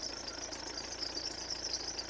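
A 2017 Nissan X-Trail engine with a blocked diesel particulate filter runs in a steady, even drone, a faint continuous rumble with a hissing high whine on top and no pauses.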